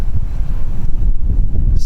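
Gusting wind on Presque Isle Bay buffets the microphone in heavy, rumbling bursts, loud and close, surging and easing in quick uneven waves with a faint wash of open water behind.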